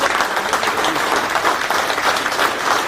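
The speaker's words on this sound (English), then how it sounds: "Another big round of applause." A large crowd at a World Kidney Day health event breaks into loud, dense applause that continues evenly throughout, close and sustained.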